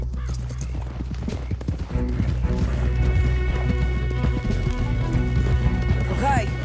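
Horses galloping in the video game Red Dead Redemption 2, with hooves clip-clopping in a steady, fast rhythm, fairly loud and close, running under dense game sound and occasional voices.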